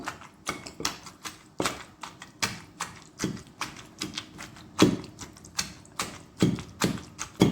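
Urad dal chutney pounded in a stone mortar, a close, steady run of dull thuds with sharp knocks, roughly two to three strikes a second throughout.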